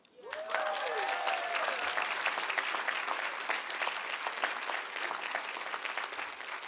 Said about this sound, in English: she hears your applause